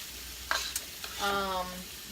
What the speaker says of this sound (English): If the rice fries a little bit before you throw the fluid in